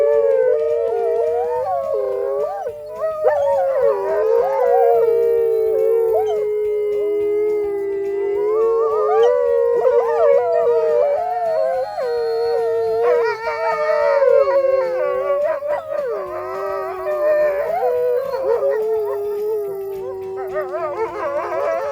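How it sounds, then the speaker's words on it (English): A wolf pack's rally howl: several wolves howl together in overlapping, rising and falling tones that carry on steadily, close and loud, for over twenty seconds with no talking. "they're kind of reaffirming those within that rally howl"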